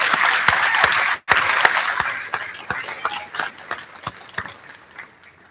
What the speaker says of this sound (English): Let's give all of these guys a big round of applause, especially you students.